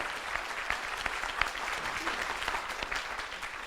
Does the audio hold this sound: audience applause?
yes